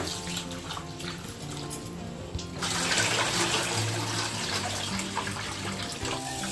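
Soaked lentils are washed by hand in water, giving a steady splashing and sloshing that grows louder and busier partway through, with no talking.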